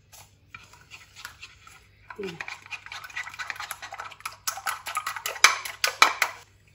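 Spoon clinking and scraping against a bowl while a mixture with white sesame seeds is mixed for a naan topping, light irregular taps that grow busier and louder toward the end.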